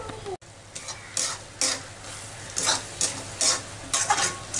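Semolina sweet mixture with ghee, rose water and dried fruit being stirred in a kadai, rhythmic scraping strokes over a soft sizzle, close and without voices.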